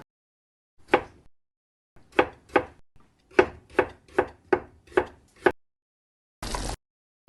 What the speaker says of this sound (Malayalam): വാഴപ്പൂ അരിഞ്ഞു കഴിഞ്ഞു.